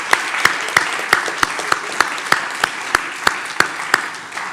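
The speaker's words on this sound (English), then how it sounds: "Give yourselves a round of applause," A seminar room full of people applauds steadily, a dense wash of clapping with sharp individual claps punctuating it throughout.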